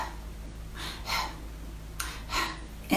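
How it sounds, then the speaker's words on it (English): Short, shallow stressed breaths come in quick bursts, roughly two pairs of brief airy inhales or exhales, close and fairly quiet with no speech. "we start breathing really short, shallow breaths, little tiny breaths"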